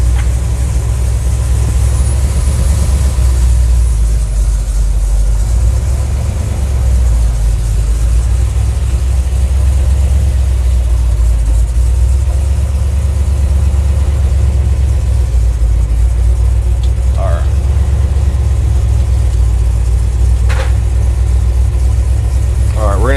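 Car engine idling loudly and steadily as it warms up ahead of testing a newly installed electric cooling fan, a deep continuous rumble with someone talking over it.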